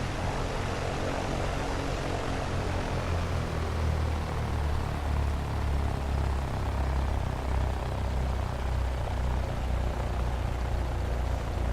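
A light aircraft on landing in the X-Plane 11 flight simulator, a steady droning propeller engine hum with low rumble, continuous and loud without speech.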